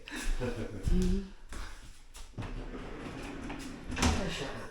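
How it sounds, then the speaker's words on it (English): Newly hung interior doors in a renovated house being shut, giving a few moderate thuds and clicks close by, with people talking over them. "Do you want to demonstrate the doors, Tony?"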